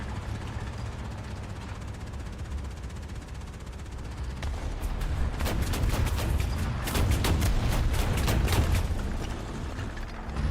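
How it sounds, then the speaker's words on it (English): Anti-aircraft gunfire in the tank combat game War Thunder: a low battlefield rumble builds into rapid, repeated cracking bursts from an AA gun. The shots come in quick clusters and hold at a steady, moderately loud level. "That sounds like AA fire."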